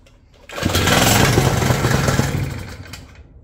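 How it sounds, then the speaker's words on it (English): A Hitachi ZV65R trench leg compactor engine starts up and roars loudly and close for about three seconds with a steady rough running note, then cuts off. "Engine switch on."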